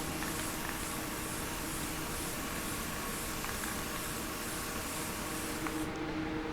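A steady, continuous hiss of aerosol spray paint, dusting a gas can, runs nearly the whole time, broad and even, cutting off abruptly just before the end.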